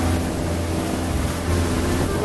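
A steady engine of a Filipino bangka boat drones close by at Apo Reef, mixed with rushing water and wind, continuous with no voices.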